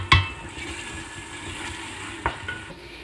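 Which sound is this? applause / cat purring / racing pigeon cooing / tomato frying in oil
tomato frying in oil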